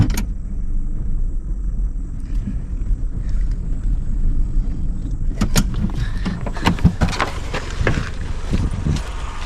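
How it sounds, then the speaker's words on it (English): A car approaches and rolls past nearby, a low engine rumble swelling into a louder whoosh of tires before fading. "we got a car coming, so let's wait a minute"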